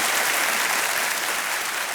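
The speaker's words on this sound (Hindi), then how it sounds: "एक बार इनके तालियों के साथ स्वागत कर दिया जाए।" A studio audience on a TV quiz show breaks into steady, dense applause to welcome contestants, a loud, even wash of many hands clapping with no break.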